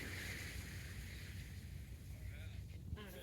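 Gentle ocean waves roll onto a beach in a continuous soft wash, with broad hissing surf and some wind rumbling across the microphone throughout.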